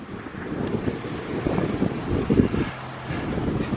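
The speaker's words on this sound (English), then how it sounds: "there's a strong wind blowing today" Strong wind buffets the microphone outdoors, a steady loud rumbling roar with gusty swells and no talk.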